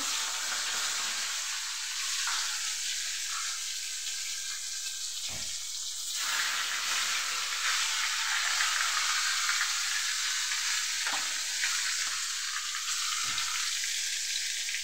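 Fish frying in a pan with a steady, loud broadband sizzle, broken by a few brief clattering spikes as the pieces are moved or turned.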